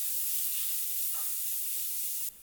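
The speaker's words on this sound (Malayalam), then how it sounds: "ആദ്യം തന്നെ ചതച്ചു വെച്ച ചെറിയ ഉള്ളി ചേർത്ത് കൊടുക്കുക അതിനുശേഷം ഇഞ്ചി കൂടെ വെളുത്തുള്ളി കൂടി ചേർത്ത് കൊടുത്ത് ചെറിയ ബ്രൗൺ കളർ ആകുന്നത് വരെ ഇളക്കി കൊടുക്കണം" Crushed shallots, ginger and garlic sautéed in hot oil for rasam, a soft steady hiss of frying with one brief stir in the middle, fairly quiet and cutting off abruptly near the end.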